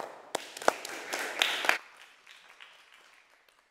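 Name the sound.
audience applause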